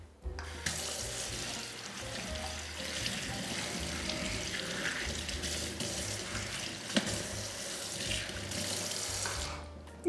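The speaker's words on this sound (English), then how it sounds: "you want to flush this stone completely and clean it." Tap water runs steadily into a sink, flushing a diamond sharpening stone clean after knife sharpening; a close, continuous splashing stream lasting several seconds with no talking.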